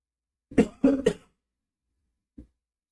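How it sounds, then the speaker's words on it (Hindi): A person coughs three times in a quick close cluster, then gives one faint short cough after a pause, in an otherwise quiet room. "मेरे को खांसी बहुत हो रही है।"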